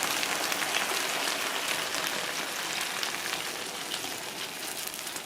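Food sizzling hard in a pan of frying cabbage and seasonings just after water hits it, a dense crackling hiss that holds steady and slowly eases.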